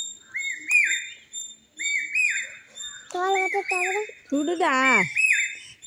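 A green talking parrot being fed guava by a child gives repeated sharp whistled calls and chirps close by, with a few longer wavering squawks, while a person speaks briefly between them.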